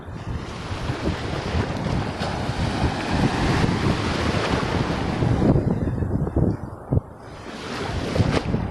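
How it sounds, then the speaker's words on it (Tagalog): Strong sea waves surge and roll in a steady, loud roar, mixed with gusting wind buffeting the microphone, with no voices. "Lakas ang alon ah."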